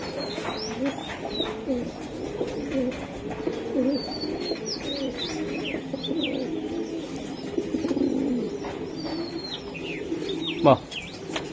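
Racing pigeons coo in low, rolling murmurs at close range, with scattered chirps and a brief wing flap near the end, while people talk softly in the background.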